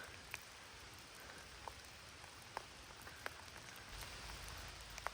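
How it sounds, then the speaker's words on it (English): Steady soft rain falling outdoors in a forest, a quiet hiss with occasional distinct drip taps scattered throughout. "it's just started raining"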